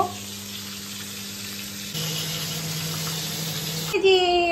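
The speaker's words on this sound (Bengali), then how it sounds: "একদিকে মাছ ভাজা হচ্ছে" Fish fries in a pan on a home kitchen stove, a steady soft sizzle with a low hum underneath, ending in a brief clatter.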